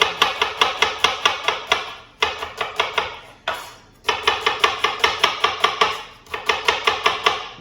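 A knife chops fall produce on a flat cutting board in a kitchen: fast, steady rhythmic thuds in runs of quick strokes with brief pauses between, close and crisp, no talking.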